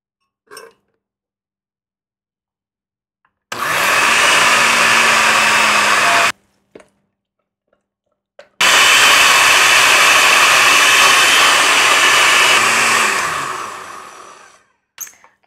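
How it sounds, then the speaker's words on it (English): Kitchen blender pureeing tofu in two loud steady bursts, a shorter run then a longer one that winds down, with brief clinks between and no talk. "I'm going to be pureeing my tofu in the blender"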